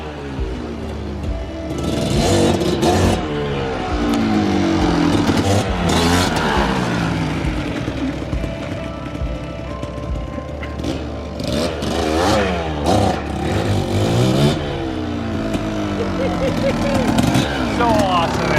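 A 1993 Kawasaki KDX200 dirt bike engine revs up and down repeatedly, loud and close, with rising and falling pitch over a steady idle and a few clattering mechanical notes.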